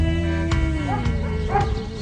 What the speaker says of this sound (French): Moi, j'ai un chien Fila.